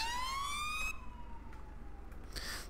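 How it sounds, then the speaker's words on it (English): A police car siren in the GTA 5 video game wails loudly with a falling pitch sweep, then fades out and is followed by quieter road noise. "The sirens do seem a little bit loud."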